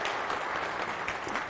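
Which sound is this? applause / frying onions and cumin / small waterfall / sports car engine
applause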